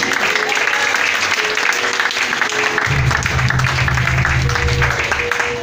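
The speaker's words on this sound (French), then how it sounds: "Est-ce que tu peux applaudir?" Church congregation applauding during a live French-language thanksgiving worship service, steady dense clapping throughout with music or organ tones entering underneath partway through.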